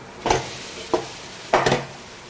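Rice stirred in a pan with curry leaves frying in oil, heard as three distinct scraping strokes over a faint sizzle, close and without speech.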